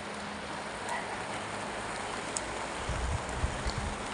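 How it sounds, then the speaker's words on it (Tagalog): Rain falls steadily on a garden where cucamelons are being harvested, a continuous soft hiss with a few low thumps near the end. "Umuulan siya, guys."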